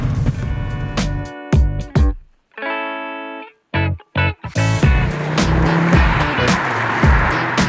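An Audi Quattro with a K24 turbo engine revs and roars on the road, with loud, gritty surges broken by brief cutoffs before the engine note swells again close by.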